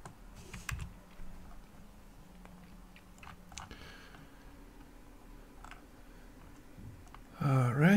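Soft clicks of typing on a computer keyboard during a FreeBSD and Arch Linux setup, sparse keystrokes scattered over a quiet background before a louder burst of noise at the end.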